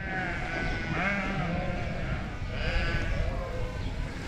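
Sheep, hoggets and lambs, bleat repeatedly in a farmyard during shearing, several loud wavering calls overlapping close by against a busy background of farm noise.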